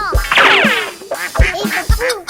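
A duck quacks a few times in quick succession, loud and close, with short honking calls and brief pauses between them.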